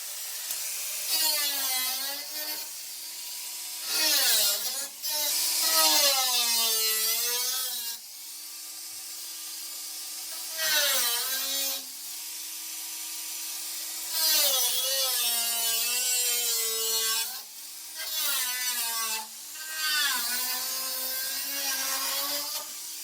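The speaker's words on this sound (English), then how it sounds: "So here I'm actually cutting out the factory swage line for the mold" A high-pitched power tool cuts through the steel body panel of a 6x6 Land Cruiser 80 series being built into a widebody, whining in repeated bursts whose pitch rises and falls as the blade bites and eases off.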